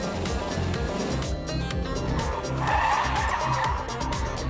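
A modern performance car launches hard off the line, its engine roaring and its tyres scrabbling for grip, loud and close for the whole stretch.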